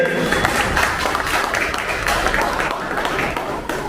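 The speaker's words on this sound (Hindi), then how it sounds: "मैं चाहूंगा कि वो लोग एक बार इस फाउंडेशन के लिए जोरदार तालियों से स्वागत करें" Loud clapping from an audience at a foundation's anniversary event, uneven and busy, with voices mixed in beneath the applause.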